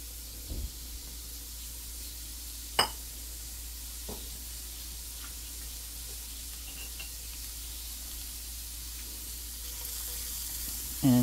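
Onions sautéing in a pan for a spicy turkey taco tot hotdish, a soft steady sizzle running throughout with a few brief clinks of stirring utensils.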